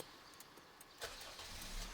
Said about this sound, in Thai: รถของคุณจะสตาร์ทได้อย่างง่ายดาย